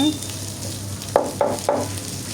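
Beef brain fries in oil with spices, a steady close sizzle broken by three quick scraping stirs of the spoon in the pan.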